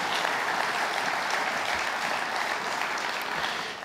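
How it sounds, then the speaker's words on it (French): Delegates at a mayors' congress applaud in a hall, with sustained, dense clapping holding steady at full volume before easing slightly at the end. "applaudissez-les encore"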